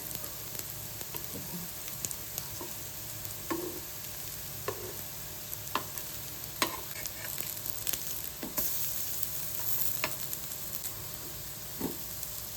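Soya chunk tikkis fry in a pan and are flipped, producing a soft, steady sizzle punctuated by several sharp clicks and taps of the turner against the pan.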